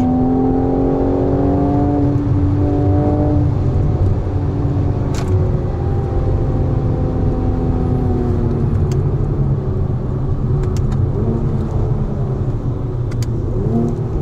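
A 2018 Mercedes-AMG car on a test drive in fourth gear, its engine note loud and close, holding a steady drone with rising then falling whine over a constant road roar.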